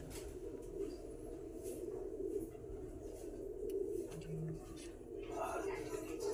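Butterfly breed pigeons coo in a loft, sitting with their chicks; a steady low murmur of cooing runs throughout at moderate distance, with a brief voice underneath.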